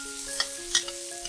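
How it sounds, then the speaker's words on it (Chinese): Tri-colour bell peppers stir-fried in a wok, a quiet sizzle with a few light clatters from stirring over a soft steady hum. "再放入3色灯笼椒炒一炒"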